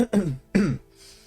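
Two short, rough coughs from a person standing close behind, the second following quickly after the first, then a faint breathy tail.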